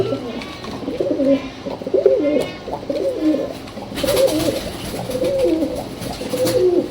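Pigeons at a pigeon market, including Pakistani Teddy birds, coo in repeated soft throaty phrases close by over a busy background murmur.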